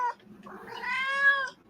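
A kitten at a kitten yoga class gives a single drawn-out, rising meow, close and clear, after a short squeak, with no talking.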